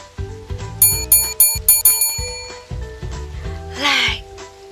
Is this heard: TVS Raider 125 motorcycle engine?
no